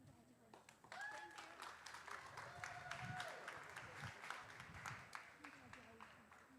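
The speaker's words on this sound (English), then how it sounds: "if you would please receive them with a great big round of applause" Applause from the audience for the champion Holstein, Red & White and Ayrshire cows at a junior dairy cattle show, a steady wash of clapping running throughout with the announcer's voice and background talk heard over it.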